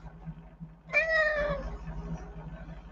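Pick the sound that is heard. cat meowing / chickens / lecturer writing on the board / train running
cat meowing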